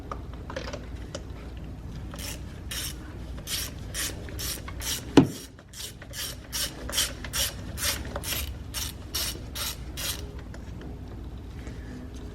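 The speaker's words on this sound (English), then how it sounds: "So now we need to take that spark plug out, or these spark plugs." A ratchet wrench works loose the spark plugs on a Hyundai Sonata Hybrid engine, a long run of quick, evenly spaced clicking bursts, close and fairly quiet, broken by a single sharp knock midway.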